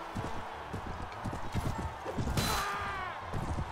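Horse hooves clip-clop steadily in the medieval combat game Mount & Blade: Warband, a quick close rhythm of hoofbeats over game background noise.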